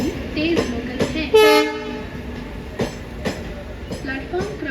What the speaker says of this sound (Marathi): प्लॅटफॉर्म क्रमांक 4 पर आई हुई लोकल 2:29 की मुंबई छत्रपति शिवाजी महाराज टर्मिनस जाने वाली तेज लोकल है